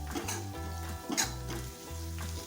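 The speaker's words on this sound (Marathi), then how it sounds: "अजून 2 ते 3 मिनिटांसाठी आपण कांदा परतवून घेणार आहोत." Chopped onion sautéing in a pan, a close, soft sizzle with a few stirring scrapes, brief and moderately quiet.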